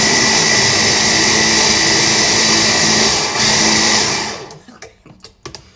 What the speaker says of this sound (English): I'll give it another whisk